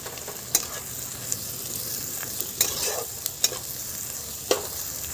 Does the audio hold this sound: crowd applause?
no